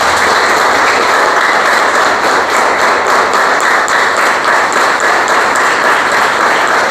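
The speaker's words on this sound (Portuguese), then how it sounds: "Então aplauda Jesus." A church congregation claps together in worship, a loud, sustained wash of applause with a steady rhythmic beat running throughout and no voices standing out.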